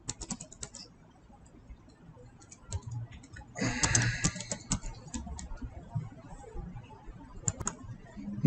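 Fingers tap out a full legal name on a computer keyboard, quick light keystrokes in short bursts with a denser flurry midway, close and fairly quiet over a low room hum.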